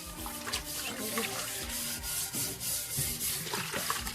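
A samovar is scrubbed and washed by hand to remove scale, with continuous close rubbing and scraping mixed with splashing water.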